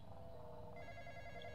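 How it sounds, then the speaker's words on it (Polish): A phone rings in the Roblox game The Intruder, a faint, steady electronic tone shifting pitch partway through over a low background hum, without talking. "Dobra, znowu telefon."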